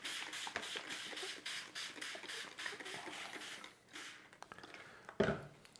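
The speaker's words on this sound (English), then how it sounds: "We'll give the sheet a spray." A hand spray bottle misting water onto a microgreen growing sheet indoors, a quick series of short hissing squirts in an uneven rhythm, close and faint, with a louder handling knock near the end.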